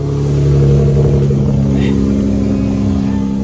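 A dark blue 2020 Mercedes C43 engine runs loud and close, holding a steady, deep drone that swells slightly early on, with no talking over it.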